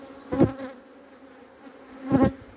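Honeybees buzz around a hive frame being shaken, two loud close bursts of buzzing about two seconds apart over a soft steady hum of the colony.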